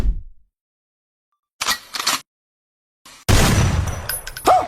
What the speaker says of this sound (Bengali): গুলি ফুটেছে